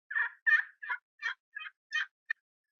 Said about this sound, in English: engulfed in his gobbles